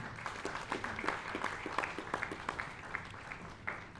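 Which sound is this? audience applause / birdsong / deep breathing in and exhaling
audience applause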